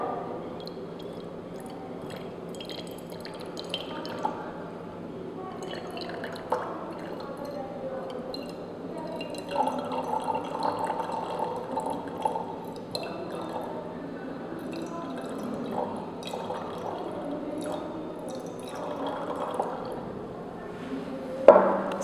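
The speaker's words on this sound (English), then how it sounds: "I am pouring this water into another beaker" Water slowly decanted from one glass beaker into another down a glass rod, leaving impurities behind; faint soft trickling and dripping runs through the stretch with low background hum and no talking.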